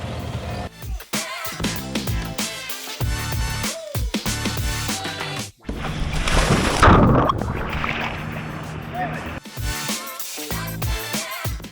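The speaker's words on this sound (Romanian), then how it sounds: "Pe noi ne duce cu bărcuța asta mică de lemn, care, Doamne ferește, cum sună." A small wooden longboat in Thailand runs its loud, tractor-like engine as a steady, rough drone with watery sloshing throughout, swelling louder midway.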